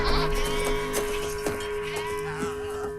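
Goats bleat over a steady musical drone in a film scene set in a mountain village, several wavering calls repeating through the scene at moderate loudness.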